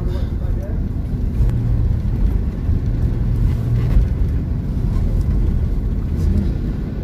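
Congested rush-hour traffic on Jalan Raya Prapen in Surabaya at end of the workday, a steady low rumble of car engines continuing throughout, with talk present.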